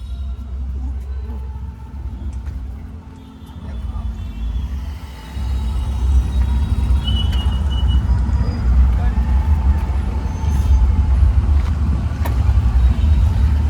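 Car engine revving and rumbling steadily at close range while a stuck car is pushed out by a crowd during a Dandiya night event in Ratnagiri, with loud voices shouting over it throughout.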